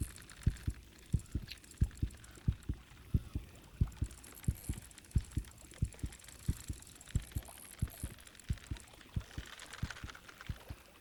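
A fish's heartbeat in the Bassmaster Fishing 2022 video game on Lake Hartwell, a steady, low double-thumping pulse repeating evenly throughout, set against a soft background hiss.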